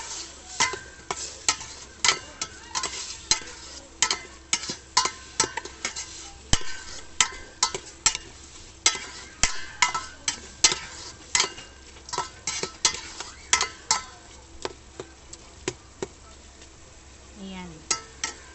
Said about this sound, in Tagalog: Gisa-gisa natin guys.